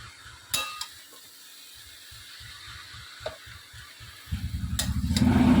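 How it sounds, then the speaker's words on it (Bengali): Pumpkin greens cooked with moong dal are stirred in a pan: a few sharp metal clinks stand over a quiet, pulsing low hum, then a soft sizzle swells toward the end. "খোলার পরে শাকটা আবার ভালো করে একটু নাড়াচাড়া করে নিলাম।"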